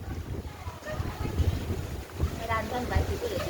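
Storm wind gusting hard around a village house as rain begins, a steady broadband rush with swelling gusts, while people talk over it.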